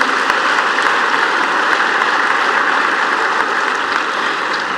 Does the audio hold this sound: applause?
yes